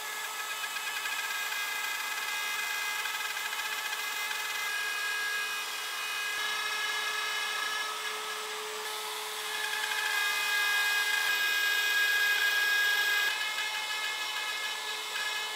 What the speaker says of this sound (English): I'm gonna do that using my plunge router and a quarter inch spiral bit